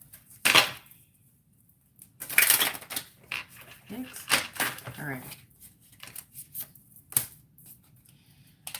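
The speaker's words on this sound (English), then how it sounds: "One last shuffle on that." Tarot cards are shuffled in several bursts of crisp riffling and flicking, close and moderately loud, with a person talking briefly between them.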